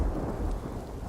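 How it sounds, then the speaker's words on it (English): A thunderstorm with steady heavy rain and a low rumble of thunder, loud and continuous throughout with no voices. "Well, the storm should be over by tomorrow"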